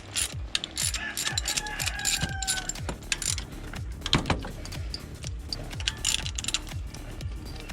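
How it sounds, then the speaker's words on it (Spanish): A ratchet wrench loosens the ignition coil bolt on a Nissan HR16DE engine, giving a fast, loud, continuous clicking close by with a few metallic jingles. "Ahora vamos a quitarle el tornillo que sostiene las bobinas."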